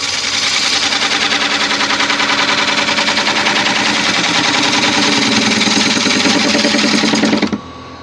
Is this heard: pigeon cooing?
no